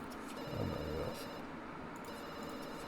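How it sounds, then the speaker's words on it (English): A telephone rings inside a house in The Sims 2, with repeated electronic trills set against the game's background music and ambience. "Let's answer the phone first."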